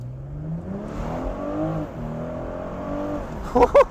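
BMW M440i xDrive Convertible engine accelerating hard, a rising drone heard from inside the car with a rev climbing in pitch, then a shift and a louder burst near the end.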